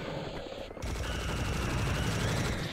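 A minigun in the video game Serious Sam opens fire with a dense, continuous roar of rapid shots that holds steady and loud to the end, heard alone without talk.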